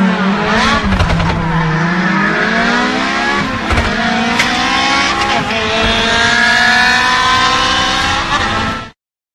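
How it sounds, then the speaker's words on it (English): A rally car engine from the video game Landscape revs and climbs through gears, a loud, close, continuous roar with pitch sweeping up and dropping between shifts before cutting off abruptly. "Rally car."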